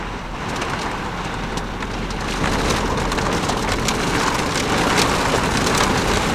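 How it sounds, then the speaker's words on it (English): Rain and wind outdoors in Arctic Norway's Lofoten Islands, a dense hiss of rain pattering on surfaces with gusty wind, steady then growing slightly louder midway, with scattered sharper drip and tap sounds close by. "If you can hear that, that's the rain and the wind and stuff."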